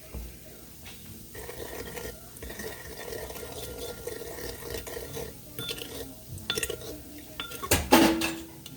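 A spoon stirs a hot pepper chicken sauce with brown sugar and wine in a bowl, steady scraping and clinking of utensil on the dish, with a sharper clatter near the end and no talking.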